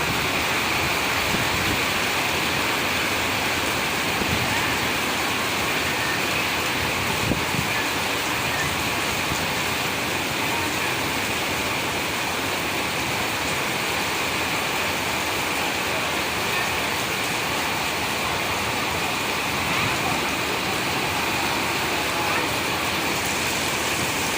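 Heavy rain pours at Besant Nagar beach in a dense, steady roar of falling water that stays loud and unbroken throughout.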